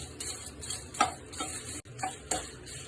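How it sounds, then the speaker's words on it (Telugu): Dried red chilies fry in a pan for homemade sambar powder, a faint sizzle under scattered scraping and tapping of a spoon stirring them. "ఎండుమిర్చి కూడా మంచిగా ఫ్రై చేసుకుందాం."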